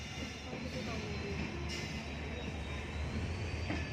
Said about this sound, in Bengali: আর এদিকে ট্রেন যাচ্ছে।